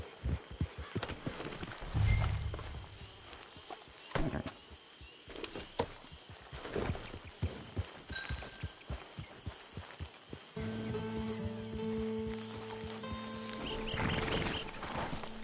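Horse hooves clip-clop in the Red Dead Redemption 2 video game, a rhythmic run of hoofbeats near the camp that slows and thins out, joined later by ambient game tones.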